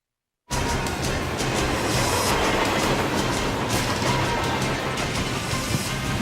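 Train rumbling steadily along its rails in the PlayStation game Covert Ops: Nuclear Dawn, a continuous loud clattering roll with faint rhythmic clacks, no voices over it.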